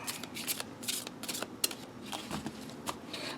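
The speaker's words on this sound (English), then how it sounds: "Sometimes I will split and just take the next 3 cards" A deck of oracle or tarot cards riffled and split by hand, producing quick papery flutters and soft snaps in short bursts, close and fairly quiet with no talking.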